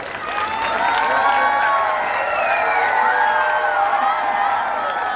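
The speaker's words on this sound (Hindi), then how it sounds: "तो एक बार रश्मि मैम के लिए भी जोरदार ताली." Loud applause and cheering fill a school annual function hall, with children shouting and whooping over dense, sustained clapping from a large audience.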